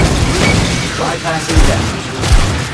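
Grenade blasts in the Aliens: Fireteam Elite video game, a couple of dull booms that rise out of dense, loud combat noise and weapon fire with no break.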